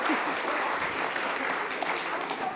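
Sustained applause from an audience at a Supreme Court lecture, a thick wash of many clapping hands held at steady loudness throughout, with faint voices beneath.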